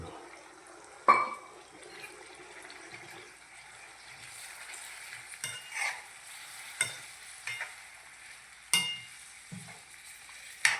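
Rice, rajma dal and radish greens being stirred in a pan after water is added, giving soft intermittent scraping and sizzling strokes with a few sharper clinks, fairly quiet and close.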